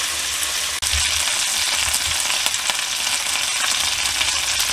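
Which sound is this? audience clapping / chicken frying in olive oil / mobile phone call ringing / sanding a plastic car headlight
chicken frying in olive oil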